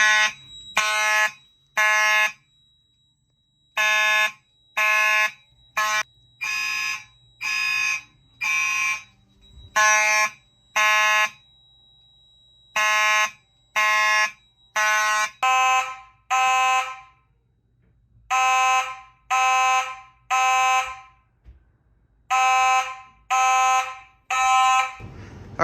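A middle school fire alarm system sounds during a test, repeating loud harsh horn blasts in steady bursts with short gaps, continuing for the whole stretch with a faint low hum beneath.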